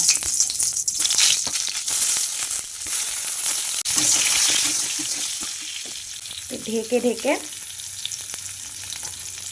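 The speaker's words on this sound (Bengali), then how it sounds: "আমি এক এক করে আগে বেগুনগুলোকে ভেজে নেব" Eggplant pieces frying in hot oil in a wok, a loud steady sizzle that settles and fades partway through, with brief speech near the end.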